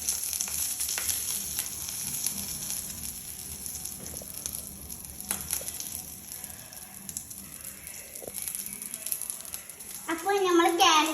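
Chilies sizzle and fry in hot oil for a carrot stir-fry, a steady crackling hiss that runs throughout under a person talking, with occasional pops and stirring.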